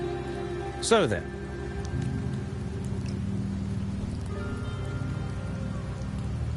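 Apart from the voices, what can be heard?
rain falling in the video game Wuthering Waves, Septimont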